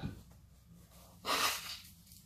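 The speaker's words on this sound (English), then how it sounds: "Let me see if I can blow my nose a little bit." A person with a runny nose blowing it once into a tissue, a short, sharp nasal burst after some quiet sniffing and breathing.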